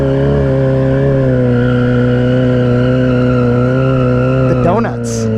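A Harley-Davidson motorcycle spins donuts, its engine holding a loud, steady drone while the tires squeal; near the end the pitch sweeps briefly before a short burst of hiss.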